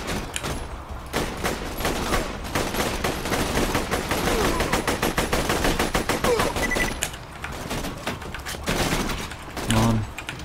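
Rapid automatic gunfire from a gun in Borderlands 2, a dense, sustained stream of loud shots running almost the whole time with only brief pauses, with faint talk at moments.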